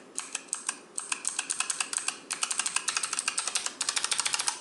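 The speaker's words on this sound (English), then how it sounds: "Here's the sound of the click." Key clicks from a Razer Huntsman Elite gaming keyboard ring out in rapid, crisp bursts of typing, close and distinct, with brief pauses between runs of keystrokes.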